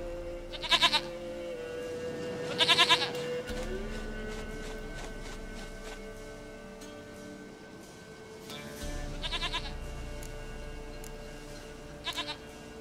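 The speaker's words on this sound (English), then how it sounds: "Goat of mine, dearest, sweetest goat." Goats bleat in short bursts in The Witcher 3, a few separate calls spread across a steady ambient game backdrop, moderately near and some fainter than others.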